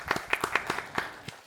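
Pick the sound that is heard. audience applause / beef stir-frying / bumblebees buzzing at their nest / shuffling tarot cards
audience applause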